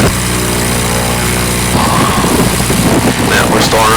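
Air-cooled VW engine on a Sonex aircraft idling at 1800 RPM, a loud steady drone with a low harmonic hum that roughens and changes partway through, with people talking over it.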